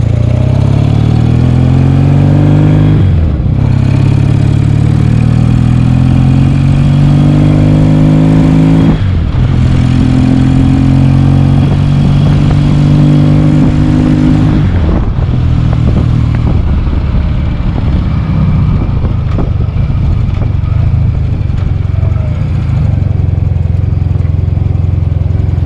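A Yamaha XS2 motorcycle engine runs loud and close, revving in three long rising pulls that each drop off abruptly, then settling into a rough, steady idle for the last ten seconds with no talk.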